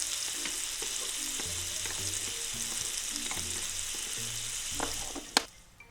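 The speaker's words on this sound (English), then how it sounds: "Let's add olive oil to the pan and our eggplant. And let's cook it well." A single eggplant slice frying in olive oil in a pan, a soft continuous sizzle with occasional scraping and stirring knocks, ending in a sharp clack before the sound drops away.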